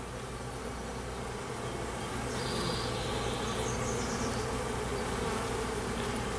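Dense, steady hum of many honey bees buzzing around an open hive during inspection, a continuous close, loud drone with no speech.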